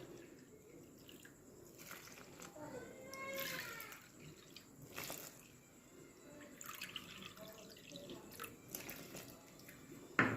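Water is poured for a motichoor laddu sugar syrup, a soft splashing trickle that rises and falls over ten seconds, close and fairly quiet in a kitchen.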